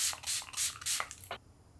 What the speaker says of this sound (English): So just setting spray on the brush.